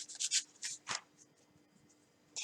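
A deck of tarot cards is shuffled at close range in a few quick, soft papery riffles and slides, then a quiet pause before another brush of cards at the end.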